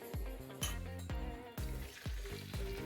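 Eggs frying in a pan, a soft sizzle with a series of sharp clacks and thumps at a steady beat close by, fairly quiet, no talking.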